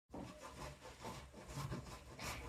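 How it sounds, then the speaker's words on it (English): A block of food is grated by hand in a home kitchen: a run of soft, rhythmic rasping strokes, fairly quiet and close, with no talking. "I have this block also, and I have to grate that"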